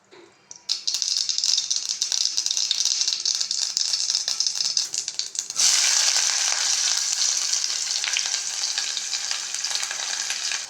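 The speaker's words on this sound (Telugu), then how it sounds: "ఆయిల్ వేడెక్కింది ఆవాలు వేసుకున్నాం" Mustard seeds crackle and pop in hot oil while frying green plantain slices, a dense, steady spattering that starts abruptly and grows louder and brighter midway, close by with no talk.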